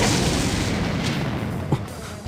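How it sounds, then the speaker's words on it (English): A deafening explosion in a Dies irae visual novel battle scene, heard as a dense, sustained roar of broadband rumble with a faint thud partway through, no voices over it. "a deafening explosion."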